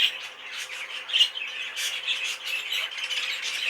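A heavily variegated buff budgerigar cock bird chatters and squawks in a rapid, irregular run of harsh calls, close and fairly loud, with no talking over it.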